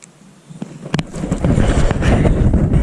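Wind buffets the microphone in a rough, rumbling roar that builds and stays strong, with a few sharp knocks early on.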